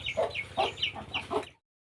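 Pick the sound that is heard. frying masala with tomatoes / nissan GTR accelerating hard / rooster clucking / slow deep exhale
rooster clucking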